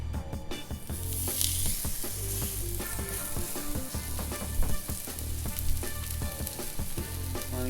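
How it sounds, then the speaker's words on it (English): A pork chop sears in hot oil in a cast iron pan, giving a steady, loud sizzle with crackles and spits that keeps going from start to finish, with no talking. "sear the pork chop"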